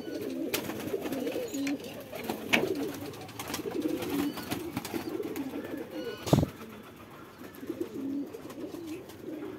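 Domestic pigeons on a Bangladeshi rooftop loft coo in soft, repeated low throaty phrases throughout, close by, with a brief louder flutter or knock partway through.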